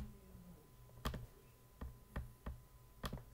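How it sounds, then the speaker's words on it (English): Several separate keystrokes on a computer keyboard, sparse sharp clicks spaced unevenly against a quiet background. "In the bottom left search field, type check firewall status."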